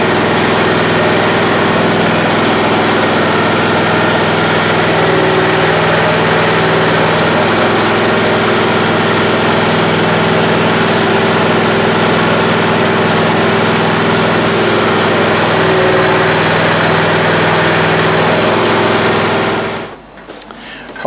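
Hustler Trimstar zero-turn mower engine running with the wheels in drive: a loud, steady, droning engine hum holds for about twenty seconds, then cuts off abruptly at the end.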